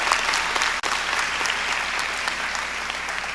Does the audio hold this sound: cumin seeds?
no